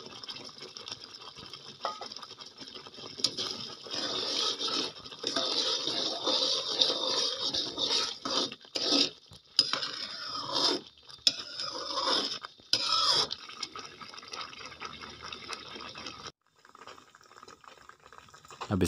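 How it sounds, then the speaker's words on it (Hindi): Grated carrot halwa with sugar is stirred in a pan with a spoon, producing a dense, continuous sizzling and scraping hiss that breaks off briefly several times, close and fairly loud. "चम्मच इसका हिलाते रहें।"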